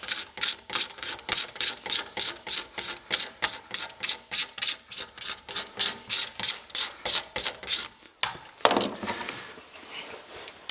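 A pocket knife scraping pithy early wood off the back of an Osage orange bow stave: about two dozen rhythmic, evenly spaced rasping strokes, close and loud, ending with a rougher scrape.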